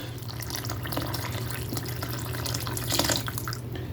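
Water pours steadily into a cooking pot for a lentil beef pot roast, a continuous close splashing stream with a low hum underneath.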